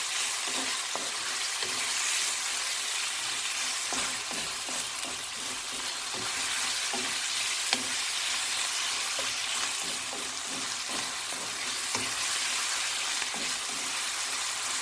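Chopped tomatoes fry in oil for bhindi masala, giving a steady, close hiss of sizzling with occasional soft stirring clicks throughout.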